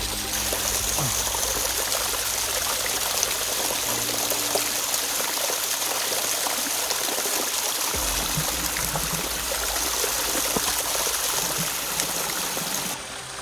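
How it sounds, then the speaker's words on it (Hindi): Clear, cold mountain water flows down from above in the Himachal hills and fills a bottle. A continuous, loud, close gurgling trickle and splash runs steadily throughout, and its tone shifts slightly partway as the bottle fills. "देखो पानी आ रहा है ऊपर से, बिल्कुल साफ़, कोई समस्या नहीं। तो अपनी बोतल भर लेता हूँ।"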